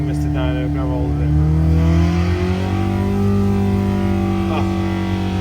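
An engine revs steadily under load on a dynamometer, a loud sustained drone that climbs slowly in pitch and holds near full throttle.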